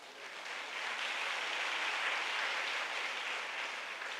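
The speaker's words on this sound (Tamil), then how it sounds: "நல்லா கைத்தட்டுங்க." An audience claps in a continuous, even wash of applause that stays steady for the whole span. The clapping is moderately faint and no one speaks over it.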